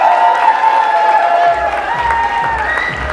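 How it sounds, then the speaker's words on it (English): Wedding reception guests applaud the father of the bride, a loud burst of clapping and crowd cheering mixed with steady background music. "a nice round of applause for the father of our bride"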